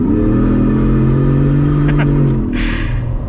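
A 2022 Ford F-150 Super Snake Sport pickup engine rumbles steadily with low harmonics, then revs harder near the end as a burst of exhaust noise rises over it.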